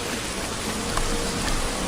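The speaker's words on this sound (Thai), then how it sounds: "โอ้ยฝนตกเริ่มหนักแล้วค่ะ เริ่มหนักขึ้นเรื่อยๆ" Heavy rain in the video game Don't Starve, a dense, steady hiss that fills the whole stretch at high loudness with no break.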